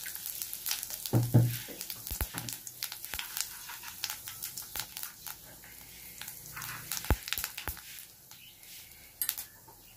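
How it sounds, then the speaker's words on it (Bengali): Dried red chili, two bay leaves and cumin seeds sizzle and crackle in hot oil for a katla fish-head dal tempering. The frying is steady and fairly quiet, with scattered sharp pops and the odd clink of a utensil. "প্রথমে লঙ্কা ফোড়ন দিলাম, দুটো তেজপাতা দিলাম, একটু জিরে ফোড়ন দিলাম"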